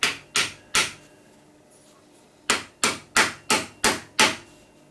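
A Wheeler gunsmith's hammer taps trigger parts on a Ruger 10/22 into place. There are nine sharp, close taps: three quick ones, a pause of about two seconds, then six more in an even rhythm.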